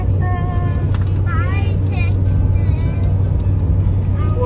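Car driving through a town in New Mexico, a steady loud road and engine rumble throughout, with faint voices and pitched tones above it.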